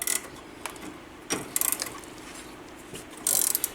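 A ratchet wrench clicks while removing a nut from the stabilizer on a Polaris RZR 800, short bursts of close, sharp ratcheting separated by brief pauses and light metallic knocks.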